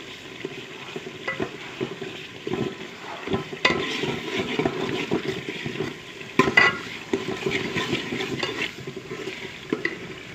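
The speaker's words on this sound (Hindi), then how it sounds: "अब मसाले को थोड़ा भून लेंगे।" Shan biryani masala fries with softened tomatoes in a pan, a steady close sizzle broken by scraping stirs and a few sharp clinks of the spoon against metal, with no voices.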